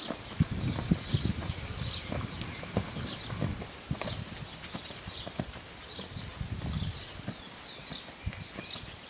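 A brown Lusitano stallion's hooves clip-clop steadily in a rhythmic counter canter, moderately close, with birds chirping faintly in the background and no talking.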